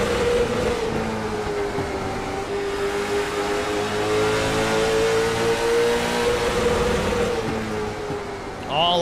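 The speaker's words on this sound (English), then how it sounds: "You can hear that rev limiter." Loud in-car sound from an IROC Challenge race car at Lanier: the engine holds a steady, buzzing high-rev drone pinned against the rev limiter for several seconds, then briefly drops off at the end.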